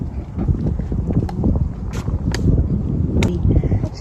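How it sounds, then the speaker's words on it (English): Steady outdoor wind on a cold day in Pennsylvania buffets the microphone with low rumbling gusts throughout, with a few faint clicks on top. "It's getting a little bit windy"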